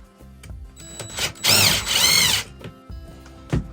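A power drill drives a screw into a wall while fixing a collapsed shelf, giving two loud whirring bursts with winding pitch, surrounded by softer clicks and handling knocks.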